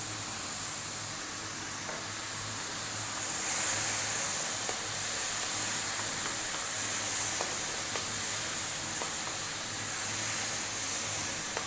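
Soy sauce hitting mushrooms frying in a very hot pan, giving a steady broad sizzling hiss that swells slightly partway through and holds throughout, close and continuous, with a few faint clicks.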